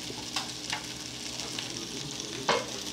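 Food frying in hot olive oil in a home kitchen: a steady close sizzle with a few soft stirring scrapes and one louder bump near the end.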